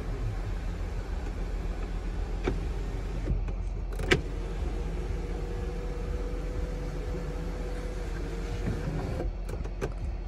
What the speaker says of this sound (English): Sunroof obviously fully opens.